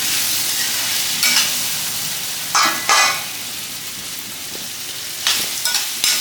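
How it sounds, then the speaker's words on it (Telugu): Potato pieces fry in oil in a pan, giving a steady loud sizzle and crackle with a few sharper bursts as they are stirred. The potatoes are being cooked for a curry with ivy gourd and peas. "ఆ ఆలు ముక్కలను దీంట్లో వేసుకొని నూనెలో కాసేపు మగ్గనిచ్చాలన్నమాట"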